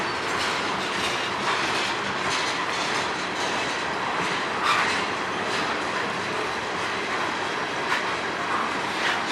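A freight train passes in Sarnia, Ontario with a continuous roar of rolling cars, rhythmic clickety-clack and occasional wheel squeal, steady and close throughout with no talk.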